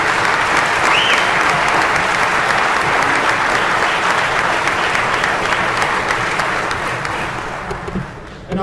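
Sustained, loud audience applause fills a hall at a sports hall of fame induction ceremony, steady dense clapping for returning inductees that tapers slightly at the end.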